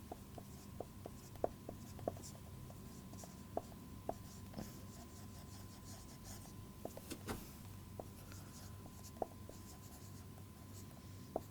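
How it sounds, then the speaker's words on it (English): Pen writing by hand on paper while working a math problem, soft continuous scratching with small taps and scattered ticks, very quiet and close over a faint background hum. "Okay, let me write that one."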